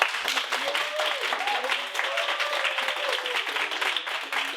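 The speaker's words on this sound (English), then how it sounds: "Clap it up for Queen Asia Mohammed." An audience at a live show applauds, a steady rattle of many hands clapping while a voice calls out over it, fairly close and sustained.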